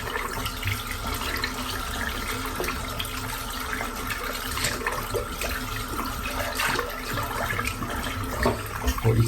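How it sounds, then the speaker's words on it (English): Water runs steadily from a bathroom tap while shaving soap is rinsed off a straight-razor shaving brush, a continuous close splashing hiss throughout with no talking. "I'm just going to rinse the soap out."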